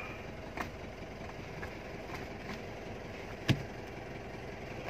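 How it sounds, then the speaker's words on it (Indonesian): A 2015 Mitsubishi Pajero Sport GLX engine idles in a steady, fairly quiet low rumble, with a couple of faint knocks over the even drone. "Ini dengerin suara mesinnya. Masih enak benar."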